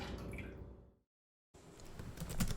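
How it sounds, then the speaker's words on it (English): Melted butter is poured into a bowl of water and milk for strawberry bread, giving soft, close dripping and liquid splatters, broken by a brief silence before a thicker, wetter trickle resumes, with no talk. "And then I'm going to add in some melted butter"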